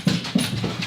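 A big white farm dog whimpers indoors, with three or four short, soft whines coming in a quick uneven rhythm, close by and alone.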